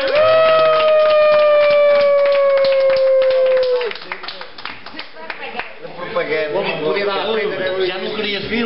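A round of applause for young José, a boy at a festive gathering: scattered claps over sustained tonal music and voices, fading into livelier chatter and sound toward the end.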